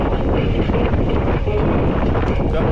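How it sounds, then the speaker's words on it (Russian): Strong wind buffets the microphone in a continuous loud roar, gusting without pause, on the Crimean coast between the sea and mountains. "Капец ветер."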